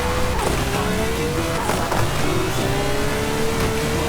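A Lamborghini Huracan Performante in Forza Horizon 5 screams through gears, its loud engine note rising and dropping with quick shifts, along with tire squeal and some skidding.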